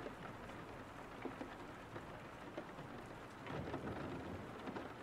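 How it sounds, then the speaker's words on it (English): Steady rain falls outside during a storm, a dense, continuous hiss with soft low rumbles of thunder building toward the end, heard alone and fairly quietly. "Not helping matters is the storm outside. The rain could be relaxing"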